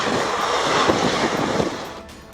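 A train rolls past with a loud rushing roar and rhythmic wheel clatter on the rails, swelling close by and then cutting off abruptly.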